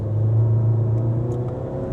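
A Tata SUV engine accelerating hard in manual mode with the throttle floored, a steady loud low drone holding throughout from inside the cabin, with no talk.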